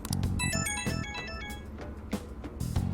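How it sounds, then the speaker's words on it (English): A phone ringtone for an incoming call in the video game Persona 5 Strikers plays a quick, bright melodic electronic jingle of rapid chiming notes, with no talk. "Incoming phone call from Masai Nijima."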